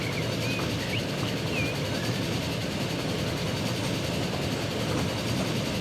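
A goods train pulls away in the railway game Transport Fever 2, a steady low rumble of engine and rolling wagons, fairly distant and continuous, with faint whistling tones above.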